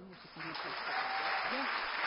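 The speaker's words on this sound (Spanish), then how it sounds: "Recibamos con un fuerte aplauso" An audience at the Forbes Mujeres forum starts clapping to welcome a speaker, a brief, steady wash of applause that swells within the first half second and continues to the end.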